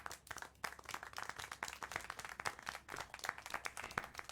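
Applause in the Syberia: The World Before game, a faint scattered round of hand clapping, thin and distant, lasting a few seconds.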